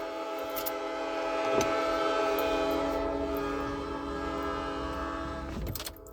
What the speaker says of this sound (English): Good grief, he's still hitting that horn.